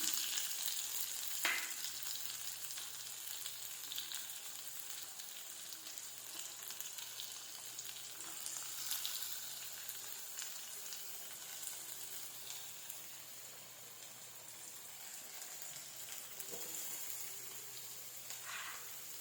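Onions frying in hot oil with mustard seeds for a country chicken curry sizzle steadily and softly, with occasional light stirring and clinks.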